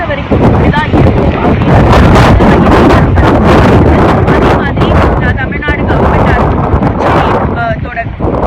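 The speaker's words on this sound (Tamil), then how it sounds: "அந்த அளவுக்கு வந்து இந்த காற்று நம்ம மேல வந்து அடிக்குது" A strong cyclone wind batters a beach at Puducherry during Cyclone Fengal, roaring loud and steady against the microphone with constant buffeting and gusting, while rain pours down and a person speaks faintly beneath it.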